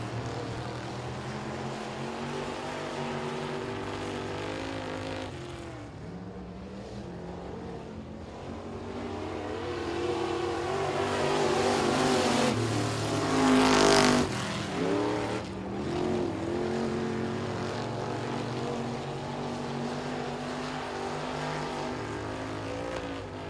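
Street stock race cars roar around a dirt speedway in the closing laps of a feature race, a continuous engine drone that swells as cars pass close by near the middle, then eases off.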